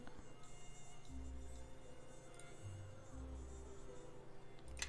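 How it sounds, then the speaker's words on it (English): A mosquito buzzes in the fantasy game Neverwinter Nights 2, a faint, steady, high-pitched whine that swells slightly at moments, with no voices over it. "Also, I hear Mosquito."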